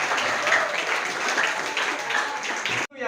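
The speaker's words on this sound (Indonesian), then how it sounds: "Tepuk tangan untuk kita semua." A classroom of students claps together in a dense, even patter lasting nearly three seconds, then stops sharply.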